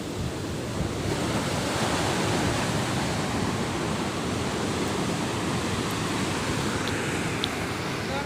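Ocean surf rolls onto Kozhikode beach as a dense, continuous roar of breaking waves, with wind buffeting the microphone throughout.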